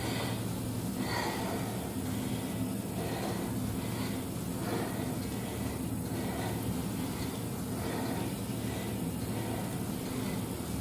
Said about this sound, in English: I feel like the mic is right by my heavy breathing.